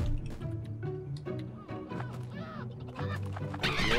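Chickens in the prop-hunt video game Witch It cluck in a quick run of short, repeated calls, fairly close and clear, with little else around them.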